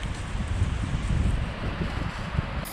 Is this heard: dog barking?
no